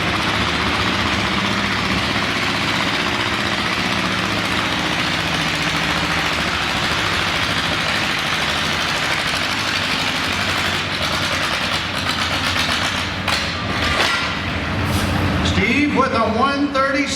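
John Deere 8 tractor pulling in the charity class at a winter tractor pull in Chatham, Virginia, its engine a loud, sustained roar that holds steady and then roughens and fades toward the end.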